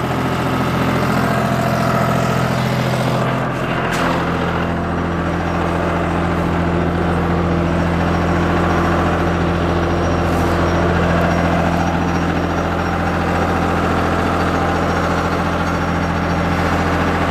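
A tractor engine running a Jagatjit straw reaper at 1700–1800 rpm hums loud and close in a steady, unbroken low drone with a few faint knocks early on.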